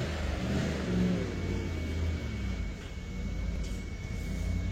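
A Ferrari sedan's engine drones steadily at close range with a low, throaty hum, swelling slightly near the start, then holding an even rumble with no voices over it.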